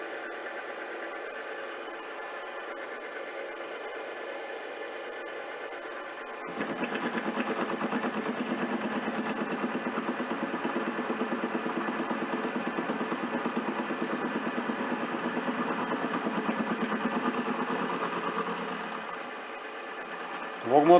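A milling machine fitted with a collet runs steadily, a continuous mechanical hum and whine that rises in level as the spindle speeds up to 900 rpm partway through, holding constant until near the end.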